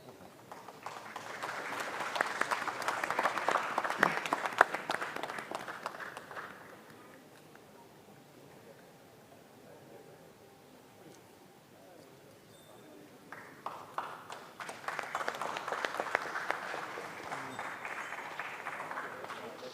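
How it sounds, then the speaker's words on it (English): A crowd at a celebration event breaks into applause twice, in a strong early burst and then a later swell after a quieter gap, with some voices mixed in. "A big round of applause, guys."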